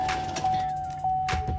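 Power window motor on a 2013 Chevy Volt whining steadily inside the door while the broken regulator's pulleys clatter and clunk irregularly, close and fairly quiet.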